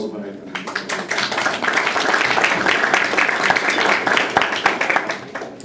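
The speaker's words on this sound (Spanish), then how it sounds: "Un aplauso para él." Seminar audience at a university event applauds as the next speaker is introduced, a dense burst of clapping that swells and holds, close and moderately loud.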